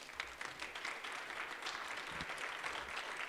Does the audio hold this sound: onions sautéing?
no